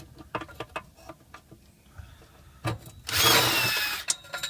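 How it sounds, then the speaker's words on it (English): Bolts being taken out of a Dodge Durango transmission pan during a fluid and filter change, with scattered metallic ticks and taps, then a brief hissing rush of noise, followed by a few more clicks close by. "Take the last couple bolts out."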